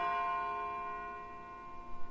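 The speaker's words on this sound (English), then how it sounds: "It sounds like a bell, but where's it coming from?" A bell in the Persona 3 Portable video game rings with a sustained, resonant tone that slowly decays, heard alone without talk.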